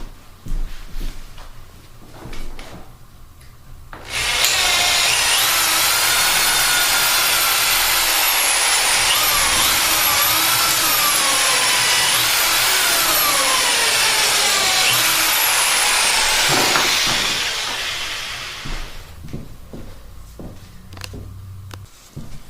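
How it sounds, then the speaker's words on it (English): A power drill bores out screw holes in wood for about fifteen seconds, a loud high whine with shifting pitch as the bit bites, then spins down into quiet. "I'm going to drill those holes out"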